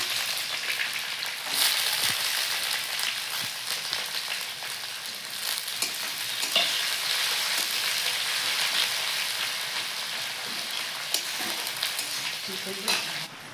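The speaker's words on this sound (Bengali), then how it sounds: "রসুনটা কিছুক্ষণ ভাজি নিয়েছি এখন পেঁয়াজ কুচি দিয়ে দিচ্ছি" Chopped onion frying with crushed garlic in a pan for a chana dal and cabbage dish, a continuous loud sizzle with intermittent spatula scrapes and knocks, no talking.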